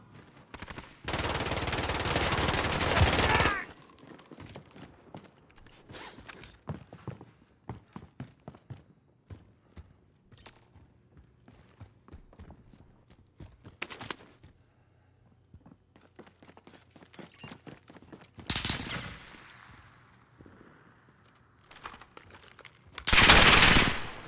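Hostile gunfire in Call of Duty: Modern Warfare comes as loud automatic bursts at the start and end, with scattered single shots, clicks and footsteps in the quieter stretch between.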